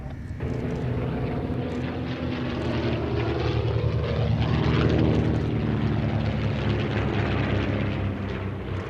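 A Westland Lysander propeller aircraft flies at an evening airshow, its engine drone loud and continuous with a rising and falling tone as it passes close by.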